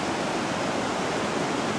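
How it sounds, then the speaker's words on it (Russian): A mountain river rushes down a gorge near Dombai, a steady loud broadband roar of churning water with no pauses and no voices over it. "А здесь вот эта река стекает по ущелью."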